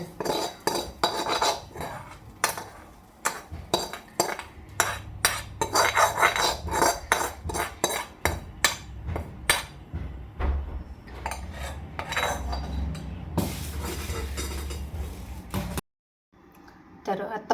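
A spatula scrapes and clanks against a metal wok as spicy bitter gourd masala stir-fry is moved onto a plate, with rapid repeated clinks and scrapes and a voice talking in places, ending in a brief silence.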